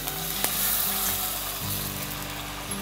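Spices crackle and sizzle in hot oil for neem flower rasam, a dense, steady close frying hiss with scattered pops and a faint clink of stirring.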